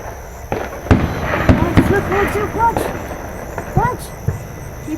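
Fireworks burst repeatedly, a series of sharp, booming pops and crackles at varying distances, with people talking and exclaiming throughout.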